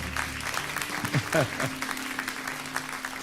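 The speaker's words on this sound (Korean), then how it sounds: "우리 한번 박수를 한번 따뜻하게" A church congregation at Sunday worship claps warmly in a steady patter of applause while voices speak over it.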